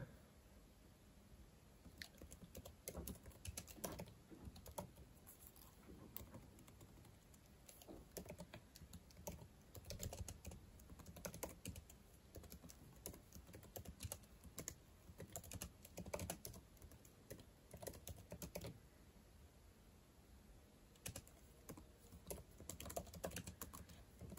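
Typing on a computer keyboard, a quiet, continuous stream of close key clicks in irregular bursts with short pauses.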